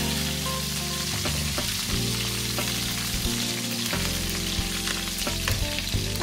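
Green chillies and ginger sauté in a hot pan for veg chowmein, a dense close sizzle with stirring scrapes and light clatter throughout, with no talk.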